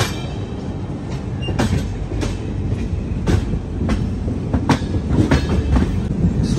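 A train at a railway station, where diesel locomotives stand near the track, gives off a loud, steady rolling rumble with irregular metallic clacks and knocks, heard close with no talking.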